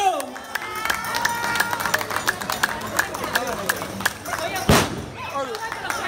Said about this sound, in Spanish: ¡Buenos aplausos, muchachos!